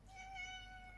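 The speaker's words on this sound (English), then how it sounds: "That's my cat, Leo." A pet cat gives a single drawn-out, tonal meow, close and faint, lasting about a second with no talk.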